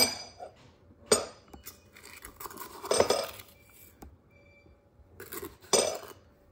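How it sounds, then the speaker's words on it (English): A metal spoon scrapes and clinks against a bowl while scooping sugar for cornbread batter, with three or four distinct close scrapes separated by quiet pauses and no talking. "And then I'm going to scoop out some sugar."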